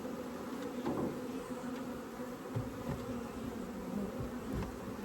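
Honey bees buzz inside a full Layens swarm trap during a transfer, a dense steady hum that holds throughout with occasional louder passes of individual bees close by.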